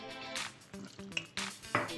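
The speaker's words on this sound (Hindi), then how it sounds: "अब इसमें मैं पानी डालूंगी" Water poured into gram flour batter for chilla, with wet splashing and squishy gurgles in short bursts, close up in a kitchen.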